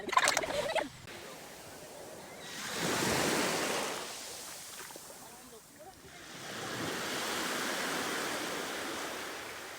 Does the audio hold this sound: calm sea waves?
yes